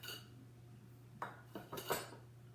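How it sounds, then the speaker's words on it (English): White granulated sugar scooped with a measuring cup for chocolate chip banana muffins, heard as a few short scraping, clinking scoops over a low steady hum, with no talking. "I guess I am grabbing another scoop, and I'm going to get a cup of sugar"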